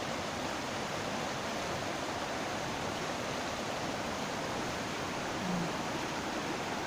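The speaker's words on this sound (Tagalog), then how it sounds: "Ayan yung sapa nila dito." A stream at Recoaro flows steadily, giving a continuous broad rushing and babbling of water that stays even and fairly close throughout, with no voices.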